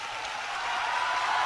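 A live audience at a Deyun She crosstalk comedy show gives a continuous round of applause, a thick even hiss of many hands clapping that swells slightly louder toward the end, with no voices heard over it.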